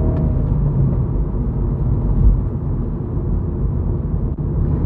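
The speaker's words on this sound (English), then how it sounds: "So I'm going to do a launch now with these PS4s, and you're going to see what they're like." A Mini F56 JCW on Michelin PS4 tyres launches on a wet road, heard from inside the cabin as a low, steady engine rumble and road roar that stays full throughout without a break.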